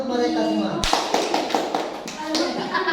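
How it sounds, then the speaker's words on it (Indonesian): Schoolchildren in a classroom clap for a group that is about to present, a burst of close, uneven hand claps starting after a brief pause and continuing alongside children's voices and chatter. "Tepuk tangan untuk mereka semua."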